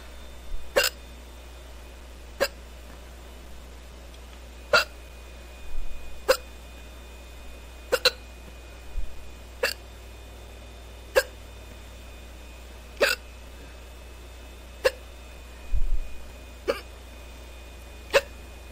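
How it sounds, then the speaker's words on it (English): Rapid hiccups from one person, about a dozen short sharp bursts spaced every second or two, fairly close and clear over a quiet background with no talking. "Oh, these hiccups are pretty fast."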